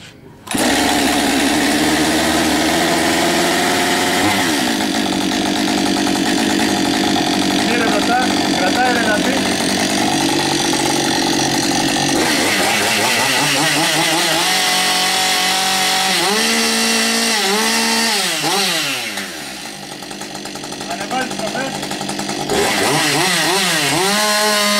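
A chainsaw at an outdoor demonstration in Gargalianoi fires up and runs loud and close for most of the stretch, its engine note climbing and dropping through repeated revs, with a short easing-off near the end before it roars again.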